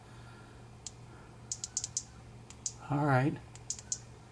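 Switch on a ThruNite Catapult V6 Mini thrower flashlight clicking through its modes, a string of sharp small clicks, some in quick pairs, heard up close with a short spoken word in the middle.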